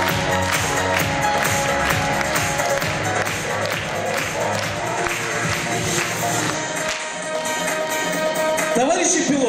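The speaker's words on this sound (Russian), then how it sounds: "Ваши аплодисменты." An audience at an honours students' gathering applauds, a dense, sustained wash of clapping heard under background music and voices throughout.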